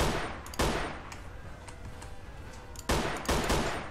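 Gunfire in Mafia II cracks out in sharp bursts, a couple of loud volleys near the start and more near the end, with lighter scattered shots and echoing tails in between.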